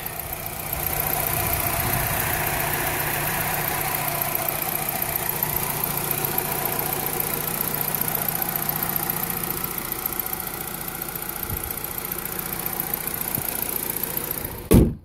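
A 2007 Saturn Vue engine idles steadily at close range, a constant low rumble with a faint knocking rhythm, ending in an abrupt thump.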